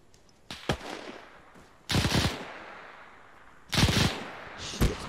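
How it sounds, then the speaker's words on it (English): Machine gun fire in the Arma 3 video game comes as a few sharp, loud bursts separated by pauses of a second or more, over a low background hum. "There's an MG pretty close somewhere."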